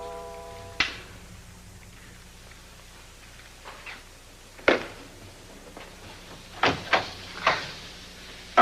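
A door opens and closes with a few sharp knocks or thumps, spaced out over several seconds in a quiet room, no talking.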